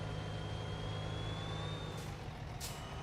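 An electric truck drives in American Truck Simulator, heard as a steady low whine and hum with a thin rising tone, plus two short hissing bursts near the end, no talk.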